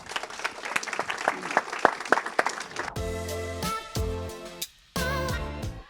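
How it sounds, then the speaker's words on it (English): An audience applauds loudly and steadily, with dense clapping that swells and then gives way to bright music. "Let's give them a big round of applause."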